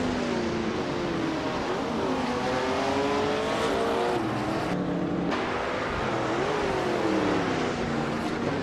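Race cars, among them a 1970 McLaren M6 GT, speed around Okayama circuit in a prototype-class racing game, with engines droning and revving continuously, pitches rising and falling through gear changes, loud and steady with no talk.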